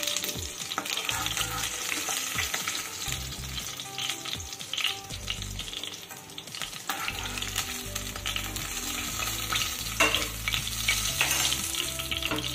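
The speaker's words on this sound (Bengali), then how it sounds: "বাকি 2টো মাছও কিন্তু আমি দিয়ে দেবো, আর একইভাবে ভেজে নেব" Pieces of catla fish frying in hot oil in a home kitchen for a mustard-poppy kalia, a steady loud crackling sizzle with intermittent stirring and pan knocks throughout, no talking.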